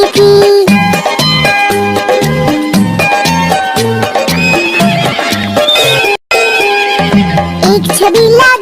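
Horse whinnies blend into an upbeat Hindi children's phonics song about a horse and a mare. The neighing sits over dense, continuous music with a steady rhythmic beat.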